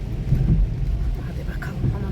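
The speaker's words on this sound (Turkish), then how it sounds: "Valla yağmur yağması daha güzel." Steady rain falls outside in a continuous low rushing wash, with faint distant rumbles and light talk underneath.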